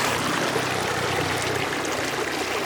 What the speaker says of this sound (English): that is where the source of this river is